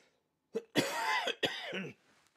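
A short fit of coughing nearby: a small catch followed by two harsh, voiced coughs in quick succession, then quiet.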